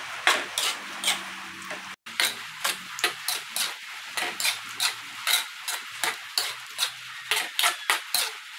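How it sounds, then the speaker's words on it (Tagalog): Fried pili nuts are stirred through sticky caramel in a pan, making rhythmic scraping strokes about three per second, close and fairly loud with no voices. "haluin lang natin hanggang sa mabalutan na or ma-coat na lahat ang pili nuts"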